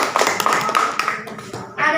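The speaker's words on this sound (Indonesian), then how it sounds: "Tepuk tangan dulu buat Epi" A classroom of junior high students at an Islamic school claps for a classmate during a practice teaching lesson, a short burst of lively clapping that quickly thins out. A voice speaks over it near the end.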